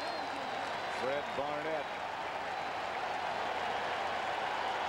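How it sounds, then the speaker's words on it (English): Stadium crowd at an NFL football game, Philadelphia Eagles at Washington Redskins, applauding the defense; a steady broad wash of distant clapping and crowd noise under a commentator's voice throughout. "And the applause for the defense."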